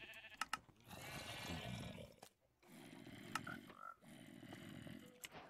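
Goats bleat in the video game Minecraft, with several drawn-out, wavering calls at moderate distance separated by short gaps, alongside faint clicks and ambient noise.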